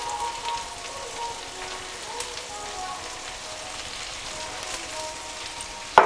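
Vegetables for fried rice fry in a pan with a steady soft sizzle, low and even throughout with a faint clink near the end.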